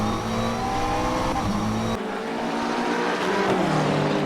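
GT3 race cars, a McLaren and a BMW, run in a sim racing game at Circuit de Spa-Francorchamps. Loud engines hold steady near, then a gear shift drops the tone and the revving rises again, with no talking.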